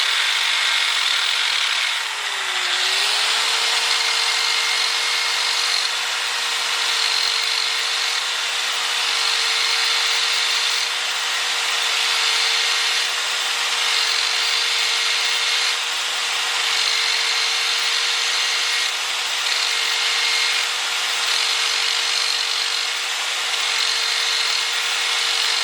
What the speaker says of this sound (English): This is kind of what I got that surface conditioning tool for, is just cleaning up old rusty kind of square tubing.